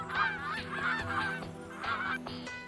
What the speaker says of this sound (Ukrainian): за нею слідом птахи прилетіли, їхні голоси, як пісня, дзвеніли